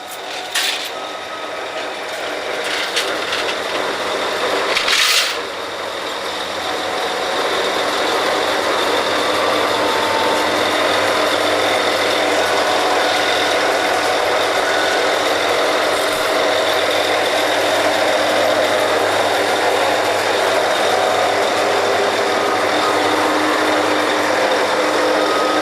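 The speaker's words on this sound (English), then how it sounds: "We're back to drilling now." A Kelly drilling rig's engine runs steadily at close range during drilling, a constant heavy mechanical drone with a high whine layered over it and a brief clank near the start, no voices.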